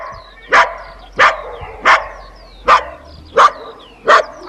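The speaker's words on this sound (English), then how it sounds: "Dog." A dog barks six times at an even, unhurried pace, each bark short and loud, close by, with quiet gaps between and no talking.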